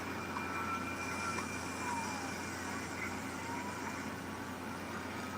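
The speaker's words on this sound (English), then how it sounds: "siren right there." Distant siren wailing faintly over low traffic rumble, its pitch sweeping up and down in slow cycles.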